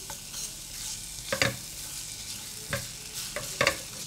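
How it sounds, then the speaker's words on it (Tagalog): Garlic sautés in melted margarine in a pan with a soft, quiet sizzle, broken by a few sharp scraping stirs. "Then, igisa natin yung bawang."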